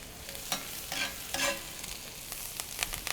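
Parsley spits and pops in hot oil in a braising pan, a continuous sizzle broken by a handful of sharp crackling pops, fairly quiet and with no voices.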